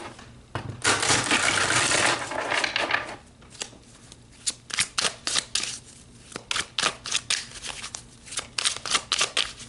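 A deck of tarot cards is shuffled up close: a dense, continuous riffle first, then a run of separate crisp card snaps and slaps in an uneven rhythm, with no talk.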